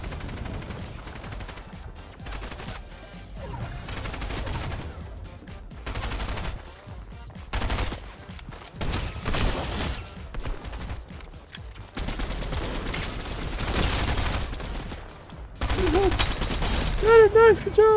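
Rapid bursts of automatic gunfire from shooting in the video game Fortnite, loud and nearly continuous with short gaps, under a busy game soundscape.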